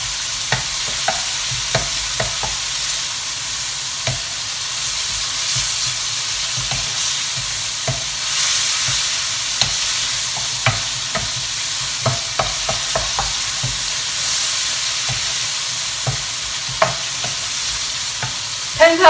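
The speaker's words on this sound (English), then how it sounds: "going to further cook this bacon for another 2 minutes when the butter is completely melted" Bacon cooking in a pan with oil and melted butter, a steady loud sizzle and crackle throughout, with occasional stirring scrapes and pops.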